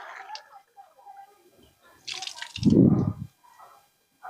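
Water poured into a container with holes drips and splashes out in a short burst of trickling, with quieter scattered drips and faint voices before and after, close to the microphone.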